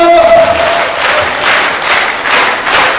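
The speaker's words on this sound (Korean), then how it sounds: "박수 한번 쳐볼게요. 뛰면서 박수!" Audience clapping while jumping at a university department evening event with a cheer squad, a dense, loud crowd clap with rhythmic surges and faint thumps of feet.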